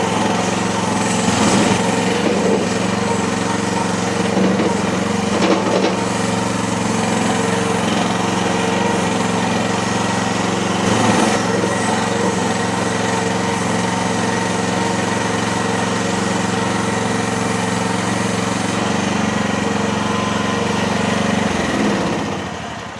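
A cheap SDLL30 mini skid steer's small engine runs steadily nearby at a constant idle, a loud continuous drone with a few faint clanks and knocks over its length.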